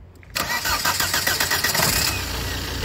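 A car engine cranks briefly after a moment of quiet, catches, and settles into a steady, close idle that carries on to the end.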